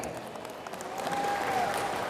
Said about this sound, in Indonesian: Ya, tepuk tangan sekali lagi ya.